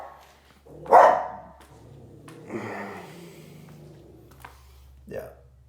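A dog in a house gives one loud close bark, followed by quieter snorts, breathing and a few softer woofs, with a low steady hum underneath.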